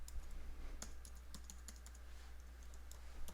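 Computer keyboard typed on to enter an SSH password, giving a brief run of soft, close clicking keystrokes over a steady low electrical hum, with no voices.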